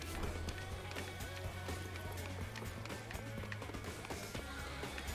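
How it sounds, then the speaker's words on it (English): Running footsteps of a player character in the video game Knockout City, a quick steady patter under a dense, continuous mix of game music and effects. "I hear his footsteps"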